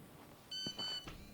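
A short electronic beep confirms a message being sent in Schoolboy Runaway: two bright tonal bleeps close together with a soft thud just before, fairly loud over a quiet background.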